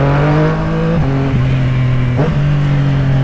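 Honda CB1000 motorcycle ridden hard, a loud close engine note rising and dropping through several gear shifts as it speeds past, with no talk.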